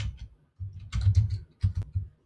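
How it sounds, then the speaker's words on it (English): Typing on a computer keyboard while adding text to a graphic, a close quiet cluster of key clicks in short uneven bursts separated by brief pauses. "And we could type in Christmas."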